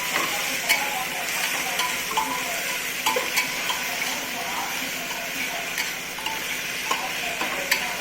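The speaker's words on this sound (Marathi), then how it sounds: "हे बघा, असं शेंगदाणे चांगले परतून घेतले पाहिजेत असे पूर्ण" Raw peanuts roast in onion-tomato masala in a pan, a steady soft sizzle with occasional scraping stirs and light clinks, close and moderately faint.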